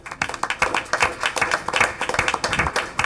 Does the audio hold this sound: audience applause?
yes